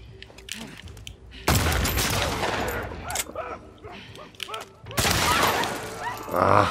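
Gunfire in The Last of Us Part II: loud, sharp bursts of shots and impacts erupt around 1.5 seconds and again near 5 seconds, with scattered clatter and game sounds between them.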